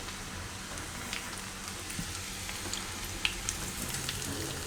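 Garlic and whole cumin sizzling in hot ghee with the gas just switched off: a steady, even frying hiss with a few small pops and crackles scattered through it.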